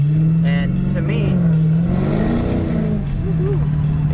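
A 2020 Dodge Challenger Hellcat Redeye Widebody engine hums loud and close in a steady low drone, swelling slightly mid-clip, with a person talking over it.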